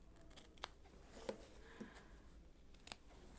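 Scissors cutting through two layers of quilting fabric and batting at once, a handful of faint, close snips spread unevenly across a quiet room.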